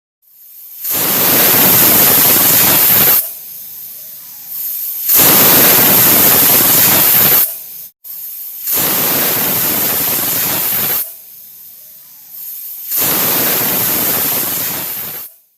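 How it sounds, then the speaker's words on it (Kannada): A pressure cooker cooking palak dal of spinach and lentils lets out four loud, hissing steam whistles, each lasting two to three seconds and separated by short silent gaps. "ಈ ರೀತಿ 4 ವಿಷಲ್ ಕೂಗಿಸಿದ್ರೆ ಬೇಳೆನೂ ತುಂಬ ಚೆನ್ನಾಗಿ ಬೇಯುತ್ತೆ."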